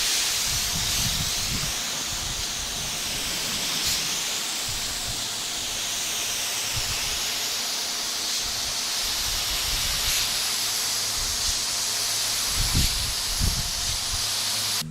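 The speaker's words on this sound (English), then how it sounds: "let's lay down some primer" A spray gun lays primer onto car bodywork, giving a steady, close hiss that runs unbroken for the whole stretch, with faint low knocks and handling noise beneath it and no talk.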